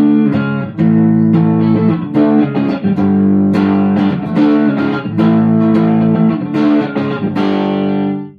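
Electric guitar with low action, played through its neck pickup with an effects unit, ringing out in a steady run of sustained, thick notes and chords, loud and close with no talking.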